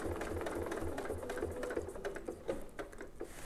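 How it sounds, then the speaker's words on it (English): Sewing machine stitching steadily along a quilting ruler template for a clamshell design, a close, continuous rapid mechanical hum and patter with a few light clicks and no talk. "then we can start sewing that"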